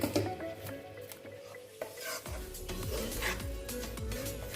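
Besan and atta flour are stirred and fried in ghee in a pan over a medium flame for laddu. A spatula makes repeated scraping strokes under a soft sizzle, close and quiet, with no talking.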